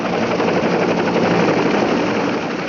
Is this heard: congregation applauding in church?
no